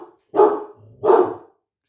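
A pet dog indoors lets out two loud, close barks about half a second apart, answering someone outside the house.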